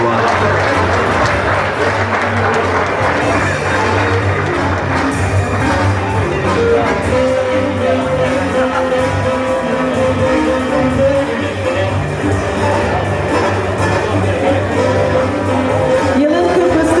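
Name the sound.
applause for award winner at gala dinner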